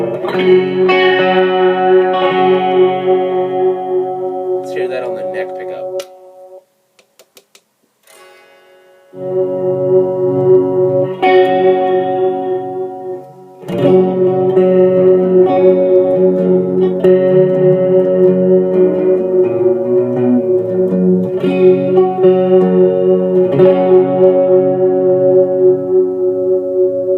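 Played on the neck pickup, an electric guitar runs through a Line 6 Spider IV amp with chorus and tap echo, giving loud, warm chords and notes that shimmer and echo, broken by a short near-silent pause partway through.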